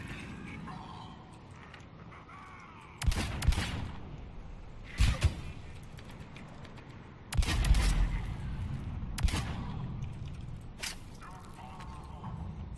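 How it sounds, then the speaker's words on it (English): Pistol gunfire in the video game Mass Effect 3: a handful of sharp, loud shots in irregular bursts over a low background rumble, with no one talking. "Fucking love this pistol."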